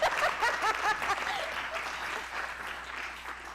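An audience at a Sunday church gathering breaks into applause, a dense burst of clapping that is loudest at first and then slowly thins out.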